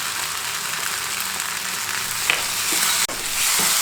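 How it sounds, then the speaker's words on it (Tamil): Ginger-garlic paste and tomato sautéing in a pan for a prawn, brinjal and potato curry, giving a steady close sizzle throughout with a brief stir clatter near the end. "அந்த விழுது போட்டு வதக்கிட்டு இருக்கோம்."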